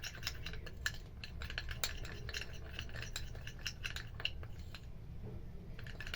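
Rice and urad dal powder mixed in a bowl, soft repeated scraping and clinking of a utensil against the bowl, faint and close, with no voices.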